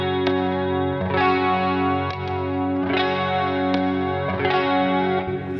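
An Ernie Ball Music Man electric guitar played through a boost effect, strummed chords ringing out loud and thick in a slow rhythm with a sustained, saturated tone and no talking.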